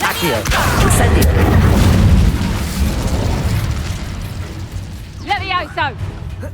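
A fiery Incendio spell blast in Hogwarts Legacy, a loud booming burst that roars for a couple of seconds then fades into rumbling combat noise, with voices briefly heard near the end.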